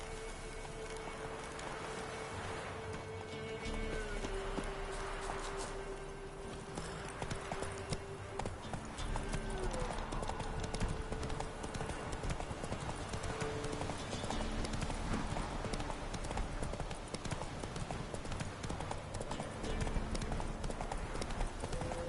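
Horse hooves clip-clop steadily at a walking pace in The Witcher 3 game, a close, even rhythm running throughout with a droning ambient backdrop beneath.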